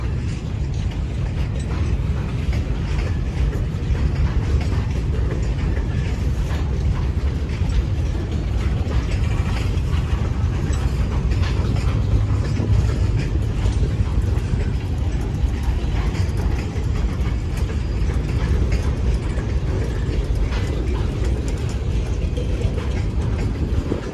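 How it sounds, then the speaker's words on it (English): A CSX freight train passes close at a road crossing on Lake Avenue in Blasdell, New York, a steady, loud rumble of wheels and rattling cars with clanking metal that holds for the whole stretch. "that train just snuck up in front of me, man"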